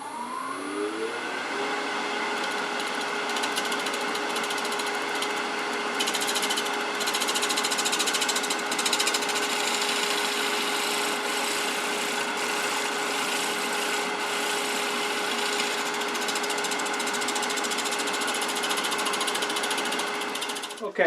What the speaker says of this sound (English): I'll take the scraper over to my grinder and